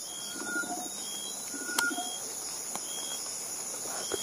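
Hill myna bird calls ring out in short bursts, some whistled and some burbling, over a steady high insect drone.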